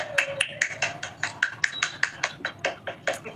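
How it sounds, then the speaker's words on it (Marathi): A group of people clap their hands together at a home gathering, a steady run of sharp, close claps with an even rhythm and no talk over them. "टाळ्या वाजवायच्या आपल्याला"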